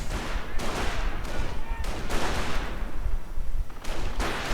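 Gunfire and explosions from a World War II strategy game battle as Panzers charge in, with dense overlapping shots and booming blasts in a loud, continuous wash of combat noise.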